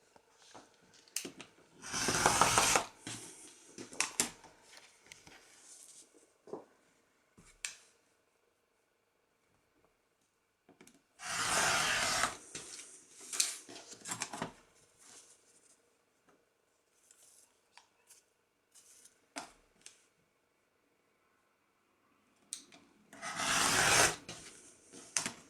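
Scissors trim back the batting of a quilted patchwork cushion in a few separate bursts of close, dry cutting and rustling fabric, with quiet pauses between.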